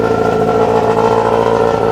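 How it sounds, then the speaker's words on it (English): A Porsche 962 LM race car runs on a street in Japan, its engine giving a steady, loud, raspy exhaust drone heard close up with no talking. "Sounds rowdy, kind of raspy. The exhaust note."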